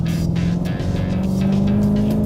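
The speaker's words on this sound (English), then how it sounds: "You never get tired of that throaty V8 with the supercharger whine up on top." A supercharged V8 in a Dodge Challenger Hellcat driven hard on a track, with a loud, close, throaty drone and a high supercharger whine riding on top as the revs rise steadily.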